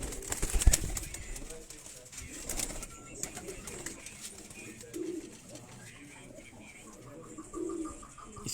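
Pigeons kept by a fancier, of Master Abdullah's line, give a few soft, low coos amid faint rustling and background noise, with someone talking nearby.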